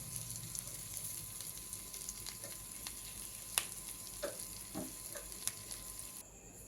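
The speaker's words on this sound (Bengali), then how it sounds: "আস্তে আস্তে এটা সেকা টাইপের ভাজা হবে।" Taro (kochu) chops fry slowly in oil over low heat, a soft, even sizzle with scattered light pops and occasional faint taps of a utensil, quiet and close throughout.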